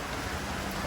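Heavy rain pours onto a street in Kerala as a dense, even wash of hiss with no distinct drops, steady and moderately loud throughout this brief moment.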